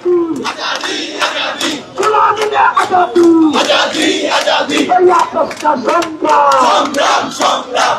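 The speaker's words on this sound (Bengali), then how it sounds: "তারা এই মুহূর্তে শাহবাগে চলে এসেছেন এবং তারা স্লোগান দিচ্ছেন" Student protesters at Shahbag chant slogans in rhythmic call-and-response bursts, a loud, close crowd of many voices rising and falling together in repeated phrases.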